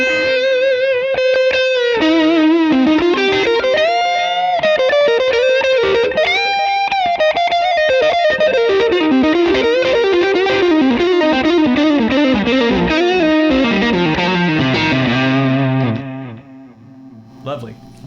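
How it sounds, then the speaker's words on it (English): An electric guitar plays through the overdrive channel of a Mesa Boogie Lone Star amp into a Lone Star 4x12 cabinet, a sustained, distorted melodic lead with bends running loud and continuous before fading near the end. "So kicking over to the overdrive channel, which was another just fascinating tone."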